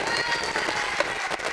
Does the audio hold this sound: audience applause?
yes